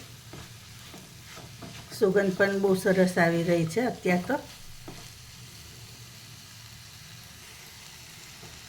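Kankoda vegetable cooks with gram flour in a pan, a quiet sizzle running beneath someone speaking close by, with a brief burst of louder clatter and bubbling in the middle.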